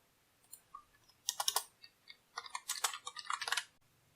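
Typing on a computer keyboard while coding, with quick bursts of close, soft key clicks in irregular clusters separated by short pauses, fairly quiet and alone.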